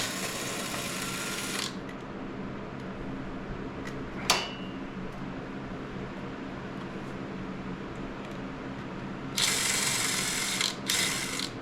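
Ratchet working bolts loose on a Honda CRF300L motorcycle, steady mechanical ticking under a constant background hum, with a sharp clack midway and louder bursts of clicking near the end.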